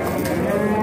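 Cattle lowing at the Mastchoh livestock market, a steady drawn-out moo under general crowd noise, loud and close, with a faint voice in the background.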